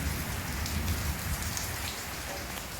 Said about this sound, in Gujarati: તો અત્યારે 4:20 પડી રહ્યો છે વરસાદ